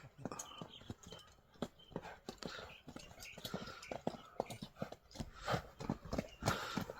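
A horse brought from Russia walks on hard ground, its hooves striking in an irregular series of close clip-clops, with faint low voices in the background.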